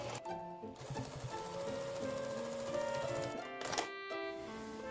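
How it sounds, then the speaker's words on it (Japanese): A home sewing machine stitches the side seam of a gathered skirt with a 1 cm seam allowance, a close, steady mechanical whir with rapid needle ticking and brief pauses. "このまま最後まで縫い代1センチで縫っていきます。"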